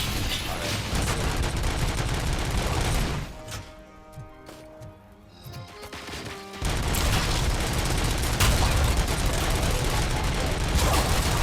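Dense, sustained gunfire in the Robocop: Rogue City video game, loud bursts filling the opening three seconds, dropping to a quieter lull, then resuming heavily to the end.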